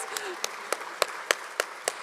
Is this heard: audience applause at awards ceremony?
yes